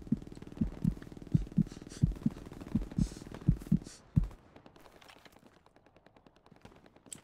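Machine gun fire in the World War II game Hell Let Loose: about ten evenly spaced heavy bursts in a steady rhythm, fairly loud, then a quieter, sparser stretch of distant shots.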